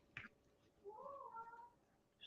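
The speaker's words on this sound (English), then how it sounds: "Stupid cat." A cat lets out one wavering, drawn-out meow at moderate distance, after a brief knock at the start, in an otherwise quiet room with low background noise.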